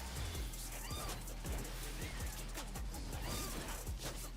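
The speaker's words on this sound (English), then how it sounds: "Cat." A cat meows a few times, faint and brief, buried in a busy, noisy mix of steady hum and repeated thumps and clatter throughout.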